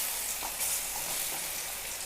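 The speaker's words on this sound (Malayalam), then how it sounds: "അങ്ങനെ നമ്മൾ പഴം ഒന്നുകൂടി വഴന്ന് വരട്ടെ." Banana slices fry in hot ghee, giving a continuous, even sizzle that stays close and steady throughout with no talking.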